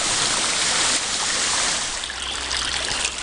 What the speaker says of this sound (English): Well, this is Bowles Creek,